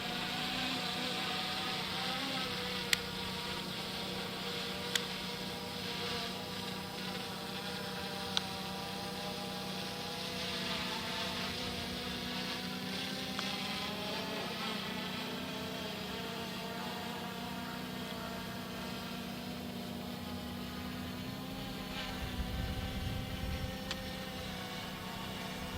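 A small drone hovers in the air above a tiny pond, giving off a continuous buzzing hum with layered tones, steady and moderately distant, with a few faint clicks.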